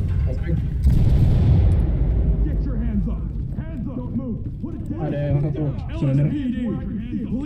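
Two flashbang grenades go off in a tactical shooter game, a loud broadband burst near the start followed by a ringing tail, with excited talk over it.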